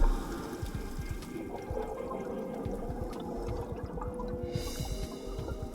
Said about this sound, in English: the divers hit the water.